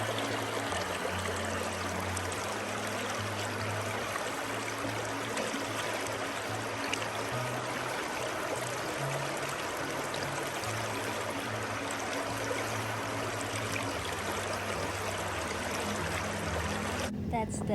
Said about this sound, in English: That's the Ellis River beside the mountains.